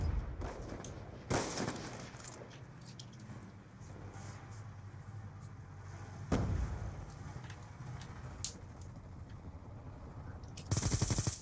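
Video game gunfire rattles in short bursts and scattered single shots, faint to moderate, with a few louder cracks spread through, over a steady background of game noise.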